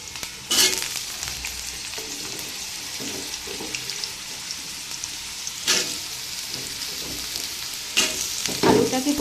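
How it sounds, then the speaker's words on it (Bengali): Cut potatoes frying lightly in oil with cumin in a pan, a continuous loud sizzle broken by a few sharp stirring clatters and scrapes, no voices. "আলুটাকে প্রথমে একটু ভেজে নেব হালকা।"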